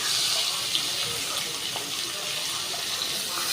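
Hilsa fish head pieces fry in hot oil with a steady, dense hiss and crackle that holds evenly throughout, close and fairly loud with no voices.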